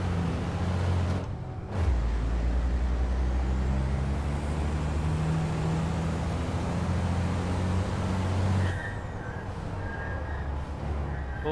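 Racing truck in the FIA European Truck Racing game: a low engine drone underneath, a sharp hiss of air brakes near the start and again later, a steady heavy rumble between, little talk.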